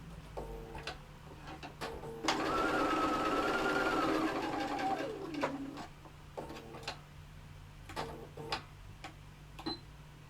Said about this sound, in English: So just sewing this in place here.